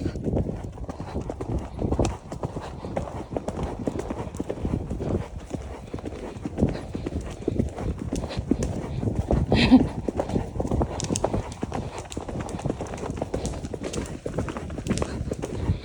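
A cob horse being ridden for the first time, hooves clip-clopping in a steady, even rhythm at moderate distance, with faint voices now and then.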